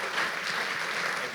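A church congregation applauds to welcome Pastor Enéas: dense, steady clapping from many hands fills the brief moment at moderate volume, with no voices rising above it.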